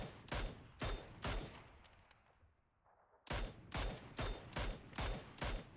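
Bursts of gunfire ring out in PUBG, a loud rapid string of sharp shots that breaks off for a couple of seconds, then returns as another evenly spaced volley.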